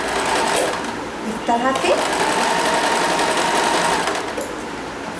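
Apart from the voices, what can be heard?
sewing machine stitching a deity's dhoti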